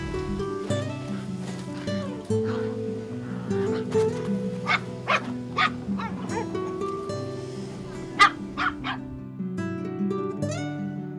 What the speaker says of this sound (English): Very clever dog.